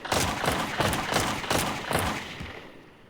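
Rapid bursts of gunfire in the video game Melon Sandbox, several dense volleys of shots in quick succession with a steady rhythm, loud and close, fading out at the end.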